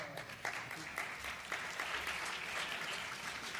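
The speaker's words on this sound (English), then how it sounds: "Now, don't applaud." An audience at a literary reading and interview breaks into fairly quiet but steady applause that persists across the whole few seconds, with faint crowd murmur mixed in.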